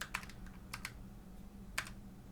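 Code being typed on a computer keyboard while building an Android video player app: three short, faint bursts of quick keystrokes separated by pauses, with no talking over them.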